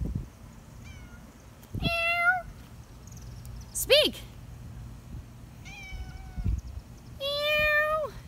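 A cat meows clearly several times in a row, close and loud, each call rising then falling, while a person speaks briefly nearby over low background hum.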